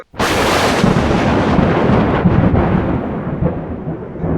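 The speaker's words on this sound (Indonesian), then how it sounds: "ketika ada petir" A thunder sound effect booms in suddenly and loud, then rolls and rumbles steadily for about four seconds with no voices over it.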